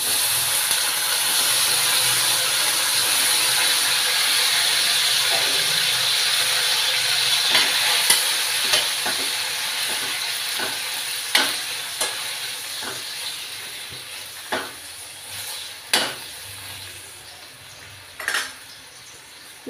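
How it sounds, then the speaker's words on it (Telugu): Chopped tomatoes fry in hot oil with a strong, continuous sizzle that slowly eases, while sharp spatula scrapes and clacks against the pan come every second or two toward the end. "ఈ టమాటాలు దగ్గరికి ముద్దలాగా వేగాలన్నమాట"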